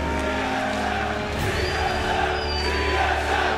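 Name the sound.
crowd cheering at League of Legends esports match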